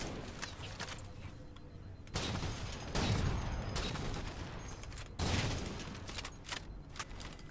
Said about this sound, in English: I'm getting bombarded by wraith shots.